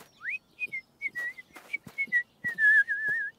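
Someone whistles by blowing into an empty juice box, producing a series of short, clear, high-pitched tones, one rising sweep, then repeated level notes ending in a longer wavering tone, close and alone.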